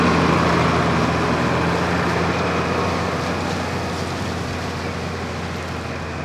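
A steady, loud engine rumble drones on as a tractor pulls a homemade drag of old tyres and a wooden pole over farm pasture to cover seed, the sound fading gently toward the end.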